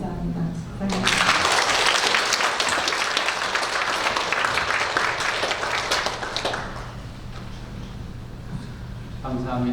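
A church congregation bursts into applause during a Sunday worship service, loud dense clapping starting after about a second and fading out near six seconds, with a voice speaking before and after.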